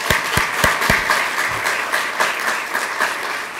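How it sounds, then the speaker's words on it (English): Lecture audience breaking into applause, opening with a few loud distinct claps up close before settling into a dense, even roll of clapping from a room full of people. "Why don't you give them a round of applause"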